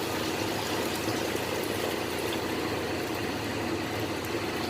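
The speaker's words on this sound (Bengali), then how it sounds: "তারপরে এখানে আমি জল অ্যাড করে দিচ্ছি" Water pours steadily into a chana kopta curry in a pan, making a continuous, even rushing flow that holds close and constant without a break.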